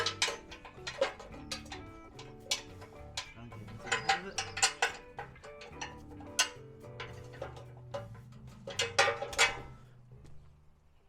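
A spanner tightens a bolt on a custom chassis-mounted carbon fibre splitter for a Mazda MX-5 NC, making quiet, irregular metallic clicks and ratcheting ticks close by, with small taps in between.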